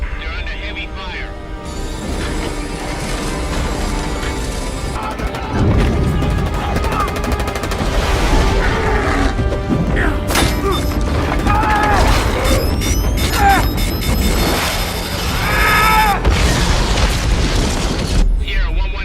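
Heavy gunfire and booming explosions from the Halo video game battle rattle steadily for about nineteen seconds, with dense automatic bursts, loud blasts and game radio voices speaking over the combat.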